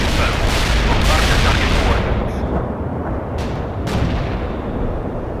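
Artillery fire in the war game World in Conflict: heavy booming barrage rumbles loudly and continuously, with a couple of sharper distant blasts as it fades, all under a low roar.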